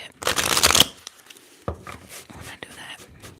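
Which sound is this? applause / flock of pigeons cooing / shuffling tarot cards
shuffling tarot cards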